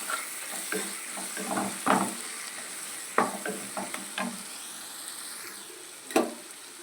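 Prawn curry is stir-fried with masala, coriander, salt and chilli, giving a steady close sizzle with repeated scraping stirs of a spoon in the pan.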